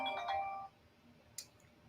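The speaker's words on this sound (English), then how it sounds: "So now I'm getting a phone call." Ringtone of an incoming phone call, a short bright melodic chime that stops, then a faint brief ping, heard alone against a quiet room.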